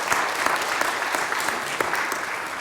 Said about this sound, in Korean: 우리 박수로 좀 환영해 주시면 좋겠습니다.